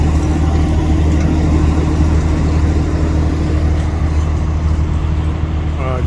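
Tractors at a tractor pulling event in Brechin, Scotland, produce a loud, steady, low engine drone that holds without a break from start to finish.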